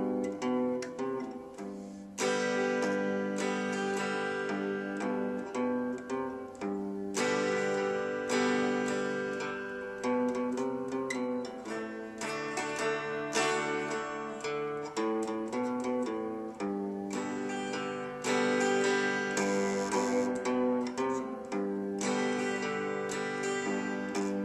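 Bob Marley's Rivers of Babylon played as a rhythm beat, a steady strummed instrumental groove with repeated chords, continuous and fairly even in level, no voices.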